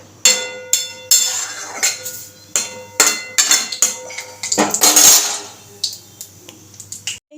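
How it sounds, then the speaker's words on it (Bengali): A wok is set down on a home kitchen stove while pots and pans clink and clank in a string of sharp, close metallic knocks, with vegetables about to be fried for chow mein. "এদিকে বসিয়ে দিয়েছি কড়াই সবজিগুলো ভাজার জন্য।"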